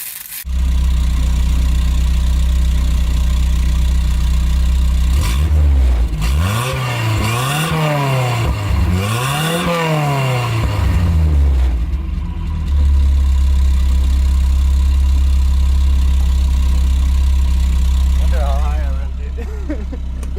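A 1979 Toyota pickup engine fitted with a new header, downpipe and muffler, idling steadily up close, then revving hard twice in rising and falling sweeps before settling back to a loud idle.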